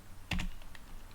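A short burst of two or three close, crisp keystrokes on a computer keyboard while entering a Java JShell command, followed by a few faint taps in a quiet room.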